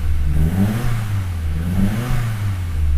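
A Nissan Skyline engine, from a DR30 or HR31 GTS-R, idles and revs in a steady loud drone with rising and falling swells, close up and free of talk.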